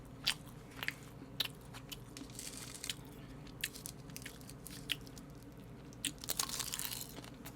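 Close, quiet eating of a pork belly lunchbox with stew and egg: repeated crisp bites and crunches with steady chewing and a few louder crunchy bursts near the end, no talking.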